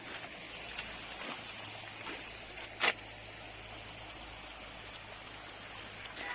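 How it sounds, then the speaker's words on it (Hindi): A shallow mountain stream, low after summer heat dried it, trickles faintly and steadily, with one brief sharp click partway through and no voices. "ये रहा पानी गदेरा, इसमें अभी हल्का हल्का पानी है"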